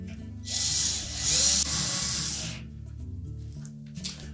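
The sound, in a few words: power drill driving screws into Whirlpool range back panel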